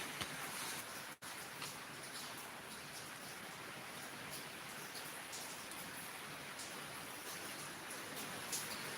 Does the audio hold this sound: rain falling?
yes